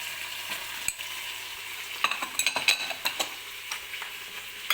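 Rancid butter and spices sizzle in a pot for couscous with a continuous bright frying hiss, and a spoon taps and scrapes against the metal in quick bursts.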